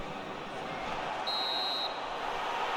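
A referee's whistle blows for half-time in the football video game eFootball 2025, a single sustained shrill tone lasting under a second over steady crowd noise from the stadium.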